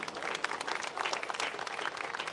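Crowd applauding at an outdoor flag raising ceremony, dense steady clapping from many hands, loud and continuous throughout.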